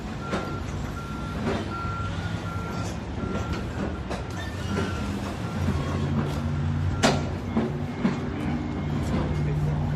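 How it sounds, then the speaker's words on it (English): Reversing beeps from a truck repeat in a steady rhythm at mid distance over a constant engine rumble and outdoor noise, with faint talk in the background. "This is our truck. We're full."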